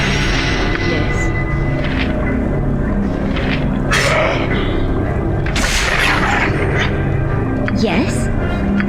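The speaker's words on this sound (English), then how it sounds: "Probably another magic missile." Magic missile spells crack and boom in Baldur's Gate 2, a run of loud, punchy impacts spaced a second or two apart, heard under ongoing conversation.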